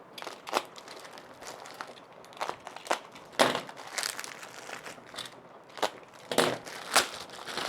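Plastic packaging holding the parts of a Mecpow MP30 tumbler heat press crinkles and tears open in a string of irregular rustles and sharp crackles, close and fairly quiet.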